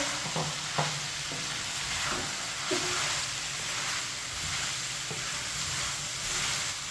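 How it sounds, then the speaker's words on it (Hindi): Boiled macaroni is stirred around a hot pan, giving a steady sizzle and hiss with soft scraping strokes of the spoon, close and continuous, with no talking. "मकरोनी को मिक्स कर लेंगे।"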